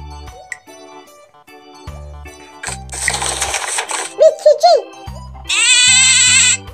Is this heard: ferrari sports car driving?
no